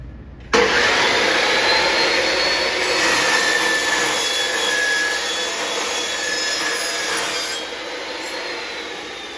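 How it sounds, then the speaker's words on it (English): Low RPM saw fitted with a low tooth count blade cutting aluminum, a loud continuous whining, scraping cut with high metallic squeal that starts abruptly and holds steady, easing slightly near the end, with no talking. "So here's the lower RPM saw with the lower tooth count blade."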